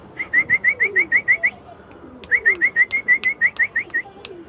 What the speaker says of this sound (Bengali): এটা একটু সিলভার কোয়ালিটির এইসব কবুতর